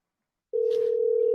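A telephone dial tone during a call starts abruptly after a brief silence and holds as a single steady, clear hum to the end.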